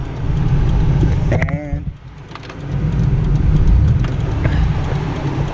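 A turbocharged, 300,000-mile Toyota 4Runner drives on the road with a loud, steady engine and road roar that dips briefly and then surges back, and a voice is heard briefly.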